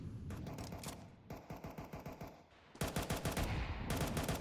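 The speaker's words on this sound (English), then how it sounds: "will Birdlickers use these AK-47s" AK-47 gunfire in a Counter-Strike match: rapid automatic bursts of evenly spaced shots, a short burst, a longer one, then a dense sustained volley, at moderate distance.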